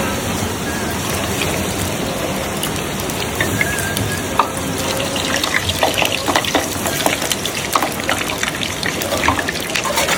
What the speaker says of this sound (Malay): Kari pap sardin frozen. Saat nak goreng.